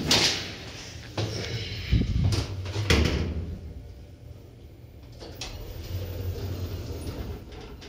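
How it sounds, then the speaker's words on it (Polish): Automatic doors on a ZREMB city bus in Opole work with pneumatic thumps and hisses, a few loud clunks followed by a sustained rumble as the bus idles. "Drzwi automatyczne."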